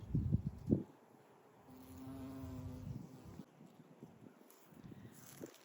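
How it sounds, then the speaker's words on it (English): Honeybees buzz around garden plants in October, a faint buzz that swells and fades as insects pass close to the microphone, with soft thumps and light wind around it. "I have a honeybee there too. They're just buzzing all around."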